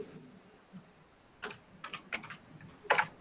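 A computer keyboard is tapped during Android app coding: a quiet pause, then a handful of crisp close keystrokes ending in a louder final Enter press, with no talking.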